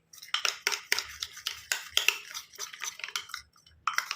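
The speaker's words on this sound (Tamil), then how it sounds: "நல்லா கலந்து விட்டுக்கலாம்." A spoon stirs a fenugreek and milk face pack mixture in a small bowl, giving a steady run of light scraping clinks about three or four times a second, quiet and close, with a short gap near the end.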